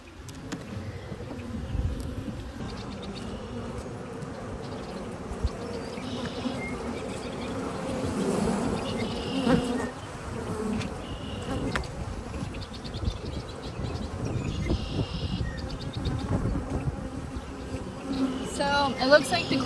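Honey bees hum in a steady, dense buzz at an open hive during an inspection, a continuous close drone that swells slightly midway, with faint handling noises.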